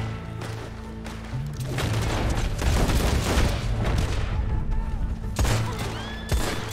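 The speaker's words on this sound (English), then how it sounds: "we'll just start shooting then." Gunfire in the online western game Red Dead Online comes as a rapid fusillade of sharp cracks and booming shots, dense in the middle and ending in a few more isolated blasts.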